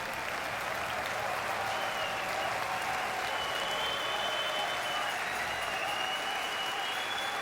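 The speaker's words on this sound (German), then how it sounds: "dein Applaus. Guck mal, der ganze Saal steht." A standing audience in a hall at a Cologne carnival television session applauds steadily and loudly, the dense clapping holding even from start to finish, with a faint crowd murmur underneath.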